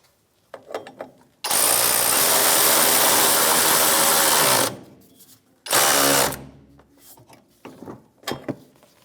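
Loud power tool driving a socket to tighten a nut on a Ford F-150 front suspension, one long sustained whir followed by a shorter burst, with metallic clicks around it.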